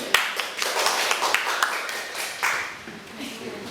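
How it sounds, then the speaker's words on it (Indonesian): Classroom students clapping together for a presenting group, a burst of overlapping hand claps with sharp taps at first, loosening into scattered claps under faint background voices. "Tepuk tangan."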